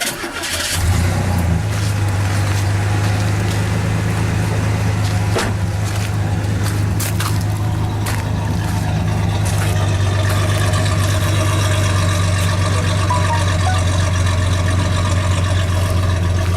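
A truck engine with a newly fitted exhaust system starts and settles into a loud, steady idle, a deep continuous rumble close by with occasional clicks and no speech.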